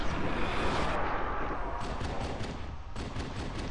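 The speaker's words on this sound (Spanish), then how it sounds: "Se escuchan disparos." Dense, continuous gunfire from the video game Halo 2 roars without a break, with bursts that overlap into a steady wash of shots at an even, fairly loud level.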